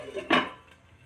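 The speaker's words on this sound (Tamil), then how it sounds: "மூடி வைப்போம் மூடி வச்சா சீக்கிரம் கொதிச்சிடும்" A single metallic clank as a lid settles onto a pot of lentil dumpling curry, with faint kitchen clatter before it.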